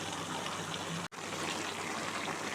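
Water gushes steadily as it is poured into a pot of cooking chicken curry, with a brief cut-off partway through before the flow resumes.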